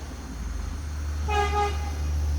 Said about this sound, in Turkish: Tren de geçiyor arkadaşlar.